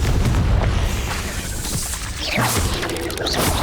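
Booming blasts from Bombarda and Confringo spells in Hogwarts Legacy on Nintendo Switch, loud and close, rumbling with mechanical clatter and whooshing effects layered over one another.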